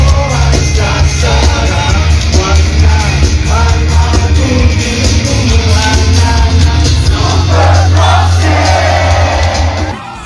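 Wild crowd at the reunion concert, a loud, dense roar of cheering and yelling from a large audience that holds steady for the whole stretch before easing slightly at the end.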